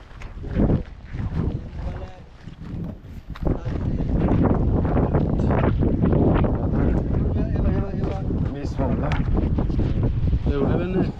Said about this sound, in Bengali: আমরা এখন নৌকা নিয়ে চলে যাচ্ছি ওই দ্বীপে